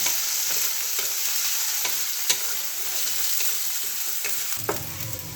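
Whole coriander and cumin seeds frying in a hot pan, a steady close sizzle with occasional stirring ticks and a sharper clink near the end.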